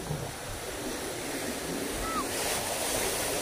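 Storm waves churn and splash against a shore during a typhoon, a steady, loud roar of surf and wind noise with no clear breaks, close to the microphone.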